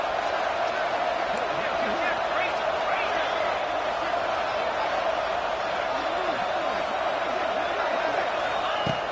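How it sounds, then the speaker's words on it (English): A stadium crowd at a Michigan versus Oregon college football game roars steadily throughout as the defense tries for a red zone stop, with a broadcast commentator talking over it. "This crowd is trying to inspire this defense to make a big red zone stop."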